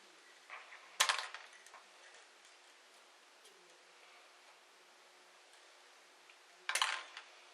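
Wire cutters snip through jumper wires while a T8 fluorescent fixture is being retrofitted, two crisp, close cuts spaced several seconds apart with near silence between.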